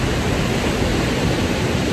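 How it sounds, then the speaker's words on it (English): Ocean waves at Myrtle Beach, a continuous broadband wash of surf heard close and loud, steady without distinct breaks, no talking. "enjoying the ocean and the waves"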